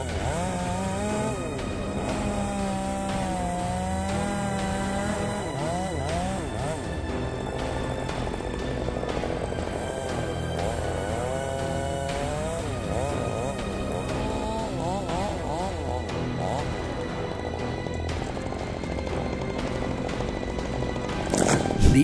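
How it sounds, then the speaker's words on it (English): An Echo 800P chainsaw cuts into a large, thick tree with a steady, loud engine whine that bogs and revs, its pitch wavering as the chain bites through the wood. "The Echo 800P chainsaw is specifically manufactured to cut large and thick woods like this."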